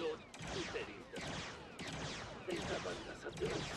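Rapid bursts of blaster-style gunshots from the LEGO Star Wars: The Skywalker Saga video game, several quick volleys repeating in clusters at moderate distance, fairly quiet.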